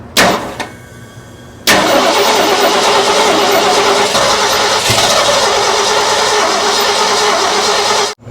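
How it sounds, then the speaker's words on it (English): A 1970 Ford engine parked for 22 years cranks briefly, stops, then catches and runs loudly and roughly up close, holding a steady ragged idle to the end. "Go ahead and crank it."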